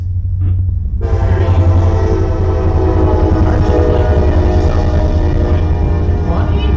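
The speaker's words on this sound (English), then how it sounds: "Sorry about the train." A train rumbles steadily past close by, loud and continuous, with a sustained horn-like tone layered over the heavy low rumble throughout.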